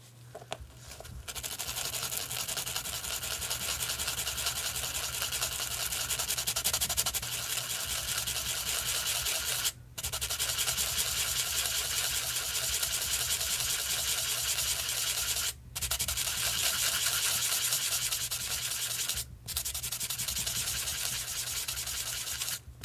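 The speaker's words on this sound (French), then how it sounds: "Et si je me mets à poncer ça avec une petite..." Hardened filler in a filled hole is sanded with a small sanding tool, producing loud, continuous close-up abrasive rubbing with a few brief pauses.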